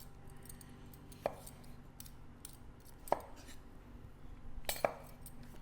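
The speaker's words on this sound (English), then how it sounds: "I'm actually gonna slice these so it goes a little bit faster." A knife slices potatoes on a cutting board, three distinct sharp chops spaced about two seconds apart, fairly quiet and close, with faint kitchen clatter between.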